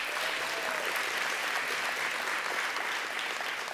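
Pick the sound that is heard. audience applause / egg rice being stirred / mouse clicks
audience applause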